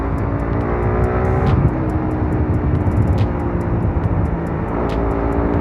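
Manual motorcycle running in third gear at about 60 km/h, a steady buzzing engine drone with road and wind noise and faint ticking clicks over the top.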